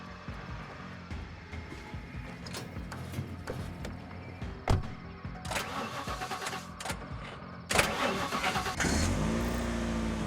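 In The Last Stand: Aftermath, a car engine cranks and catches after scattered clicks and thuds, then settles into a loud, rough idle with occasional revving.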